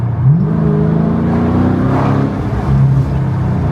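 Car engine revving as it drives away from a parking lot, with clear rising and falling engine tones and steady road noise, loud and close, no talking.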